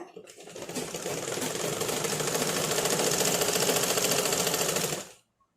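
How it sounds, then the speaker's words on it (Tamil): A sewing machine runs in one steady, fast, continuous burst, stitching the double-folded hem of a lungi, loud and close, then stops abruptly. "டபுள் ஃபோல்ட் கொடுத்து லாஸ்ட் எண்டு வரைக்கும் ஸ்டிச் பண்ணிடுங்க"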